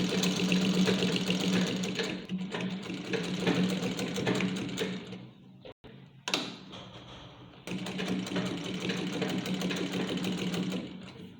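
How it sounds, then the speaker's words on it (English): A sewing machine stitches a homemade fabric face mask with a steady, close, continuous whir that halts for a moment partway through, then starts again and keeps running. "We're done sewing it"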